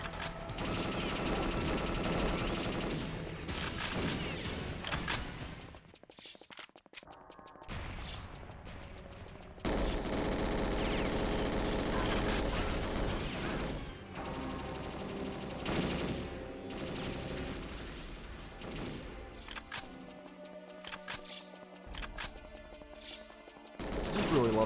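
Dragon assault rifle gunfire in Perfect Dark, long loud rattling bursts of rapid shots with mechanical clatter, broken by brief pauses, and game audio running throughout.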